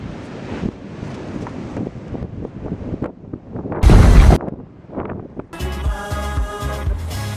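Strong wind buffets the microphone on a rainy seaside beach at Figueira da Foz, with the roar of waves underneath and heavy gusts that swell and fade. A short, loud, rumbling burst stands out before a harsher closing stretch.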